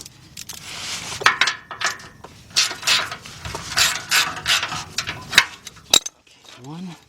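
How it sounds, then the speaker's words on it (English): A 12mm ratchet clicks loudly up close while loosening frame bolts on a Kia or Hyundai during a timing belt and water pump job, coming in rapid bursts with pauses and metallic tool clinks. "All right, let me get my 12mm ratchet."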